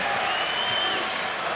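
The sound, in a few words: basketball crowd cheering at Indiana vs Northwestern game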